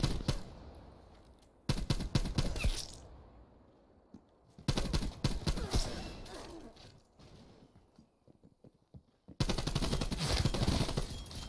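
Classic hit marker sounds from Black Ops Cold War come as bursts of sharp, rapid clicking impacts mixed with gunfire, three loud clusters separated by quieter gaps with faint background game noise.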